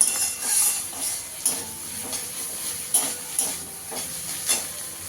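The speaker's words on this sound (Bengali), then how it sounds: "দিয়ে আর একটু ভালো করে ভাজা ভাজা করে নিতে হবে, জলটা না থাকে" Mashed kakrol (teasel gourd) fries in a pan with a steady hissing sizzle, punctuated by regular scraping stirs roughly every half second, close and without talk.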